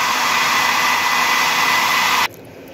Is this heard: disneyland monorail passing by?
no